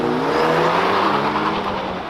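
A Mercedes A35 AMG and a Seat hot hatch launch side by side in a drag race, a loud, close roar of revving engines with faint tyre squeal as they pull away.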